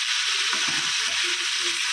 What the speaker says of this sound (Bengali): শুকনো লঙ্কা জিরে ফোড়ন দিয়েছি